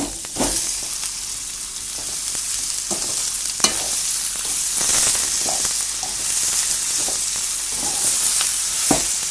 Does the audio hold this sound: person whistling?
no